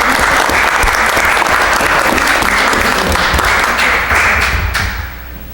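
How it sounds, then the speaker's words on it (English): Loud, sustained applause from an audience at a village board meeting, dense steady clapping that fades out near the end. "So let's give Virginia a round of applause."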